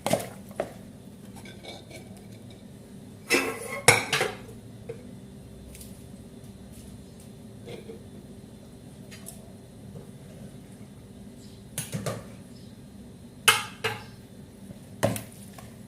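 Lumpiang Shanghai filling is worked in a bowl, bringing scattered bursts of clinks and scrapes against the dish between quieter stretches, close by and with no talking.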